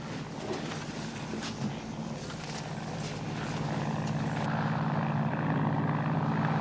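Steady drone of a propeller skydiving plane, growing slightly louder and fuller over several seconds with continuous low engine hum and wind noise.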